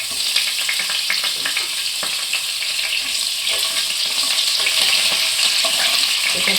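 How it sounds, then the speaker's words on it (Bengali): Bitter gourd fries in oil in a pan for a Bengali shukto, giving a close, continuous, even sizzle with light crackling throughout and no talking. "এটা একটু লাল করে ভেজে নিতে হবে।"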